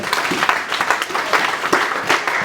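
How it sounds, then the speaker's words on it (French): A church congregation applauds the parents in a steady wash of clapping that fills the room and holds at an even level throughout. "acclamez pour les parents"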